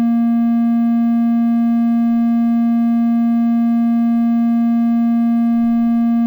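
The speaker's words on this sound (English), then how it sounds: "let's turn on oscillator compensation and let's hear what the difference is" Moog One synthesizer oscillators with oscillator compensation switched on hold one steady, loud sustained tone with even harmonics, unchanging for about six seconds, with no talking.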